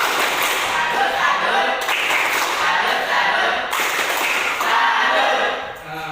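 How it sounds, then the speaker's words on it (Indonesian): A 7th-grade class at SMP Negeri 3 does the 'tepuk salut' clapping routine, with loud bursts of group clapping in a rhythmic pattern marked by sharp claps, and voices mixed in. "Tepuk salut."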